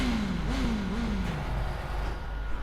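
A motorcycle engine in a GTA video game revs with a steady mid-pitched drone whose pitch slides gradually downward, loud and continuous, with no speech.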